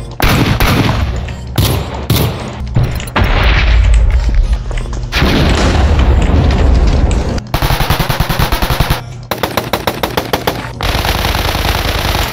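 Gunfire from several weapons in a Minecraft gun mod, loud rapid machine-gun bursts alternating with heavier booming shots and brief pauses, with steady crackling between volleys and no talk.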